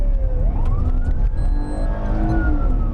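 A police car siren wails loudly in rising and falling sweeps during a high-speed pursuit drill at a police training facility, with engine and road noise underneath and no talking.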